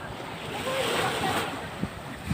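Sea waves wash onto a beach during a seaside outing, a steady surf roar blended with wind noise across the whole stretch, with faint voices and a couple of soft knocks near the end.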